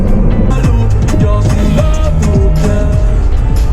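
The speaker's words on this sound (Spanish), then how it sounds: "Bueno, tráfico sí hay." Dense, loud road traffic on a Saturday afternoon drive in San Francisco on Highway 101 near the Golden Gate, with a constant engine and tire rumble and passing vehicles close by.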